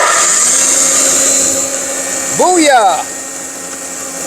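A 1959 Craftsman jointer's electric motor runs with a steady hum and high whine, while a voice briefly exclaims over it with a rising, swooping tone.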